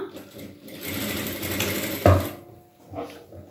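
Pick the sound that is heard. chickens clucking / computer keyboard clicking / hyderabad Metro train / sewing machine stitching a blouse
sewing machine stitching a blouse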